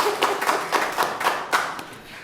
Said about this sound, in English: Let's applaud him.